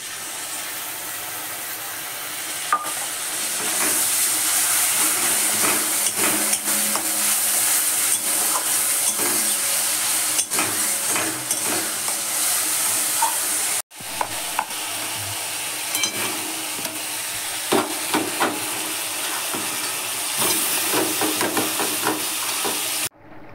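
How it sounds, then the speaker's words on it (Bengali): Ginger and chilli powder fry in hot oil with cumin, green chilli and bay leaf for a potato curry, giving a loud hissing sizzle with spoon scrapes and clinks, briefly cut off midway, no speech. "দিয়ে এবার মশলাগুলো ভেজে দিলাম"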